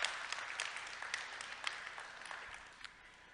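Church congregation applauding during a sermon, a steady wash of clapping from many hands held at moderate level for a few seconds, with no voices over it.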